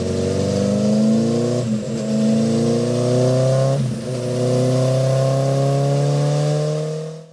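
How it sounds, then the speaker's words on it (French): A motorcycle engine on a dynamometer bench revs hard through rising gear pulls, loud and close, each climb broken by a brief dip before it winds up again and fades at the end. "des motos poussées à fond afin de connaître leur performance"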